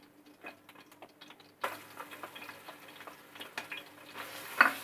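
Ginger garlic paste hits a pan on low heat, starting with quiet clicks before a soft, crackling sizzle sets in, with a few light utensil taps.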